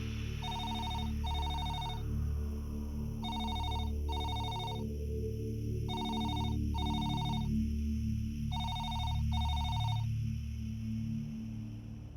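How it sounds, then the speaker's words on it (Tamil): A telephone rings on and on without being answered, paired electronic trills repeating in steady bursts with short gaps, loud and clear over a constant low background hum. "ரிங் போயிட்டு இருக்கு அவர் எடுக்க மாட்டேங்கிறாரு"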